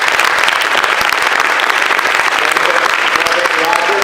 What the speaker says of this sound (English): Let's give Dr. Elst a big round of applause.